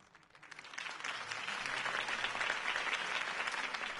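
Crowd applause following a political campaign speech in the Batman Telltale video game, a broad wash of clapping that swells in from quiet and holds steady and full to the end.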